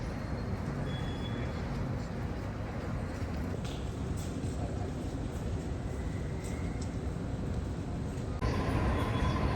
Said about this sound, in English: We're now taking the double-deck train to Central Station.